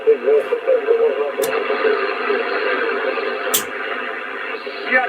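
A CB radio signal comes in on a Sirio Boomerang balcony antenna, a steady hissy, band-limited voice transmission with static and a couple of brief clicks from the receiver.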